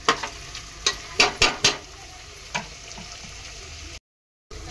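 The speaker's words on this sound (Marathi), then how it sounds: "चांगलं परतून घेऊया गॅस फास्ट करून" Tomato, green chillies and onion sauté in a pan over a high flame, a steady hiss of frying punctuated by a cluster of sharp spatula scrapes and knocks early on, close and clear, with a brief dropout near the end.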